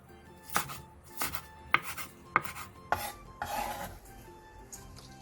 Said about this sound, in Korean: 홍고추 2분의 1개를 어슷 썰고 파 2분의 1개는 큼직하게 잘라주세요